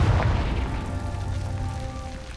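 A Confringo explosive spell bursts in Hogwarts Legacy: a deep boom opens, then fades into a low rumbling tail over the game's background ambience, with no talking.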